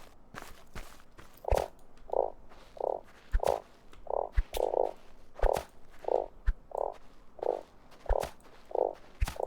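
A frog in the survival game Starsand croaks repeatedly in a steady rhythm, about a dozen short, hollow, mid-pitched croaks spaced evenly, with sharp footstep-like thumps and clicks scattered among them.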